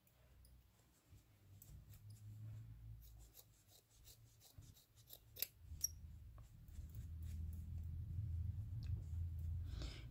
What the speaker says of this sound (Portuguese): Vocês perceberam que eu tô girando assim, ó, e tô cortando.